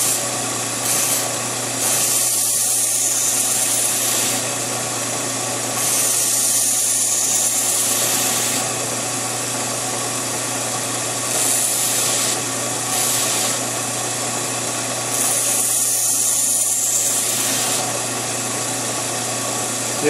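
A belt sander grinds while sharpening a blade, its high abrasive hiss rising in four long passes of a few seconds each over a steady motor drone, with a lighter touch in between.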